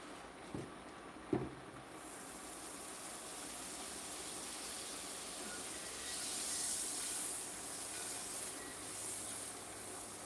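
Butter melting in a pan for shrimp Alfredo pasta gives a steady, fairly quiet hiss and sizzle that swells a little toward the end, with two brief clunks near the start.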